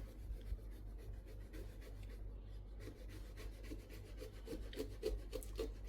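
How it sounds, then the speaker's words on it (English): Close, steady rubbing and tearing of thick pomelo (jeruk bali) rind as it is peeled apart by hand, with continuous scraping rasps and a few sharper rips, no talking. "then we'll just hand peel it"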